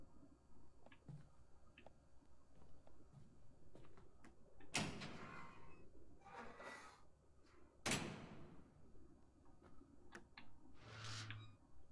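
A door in Layers of Fear 2 moves with a long scraping creak and then shuts with a solid knock, followed by another heavier thud and a softer scrape, over quiet ambience with faint ticking.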